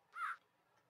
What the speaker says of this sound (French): Il y a un corbeau.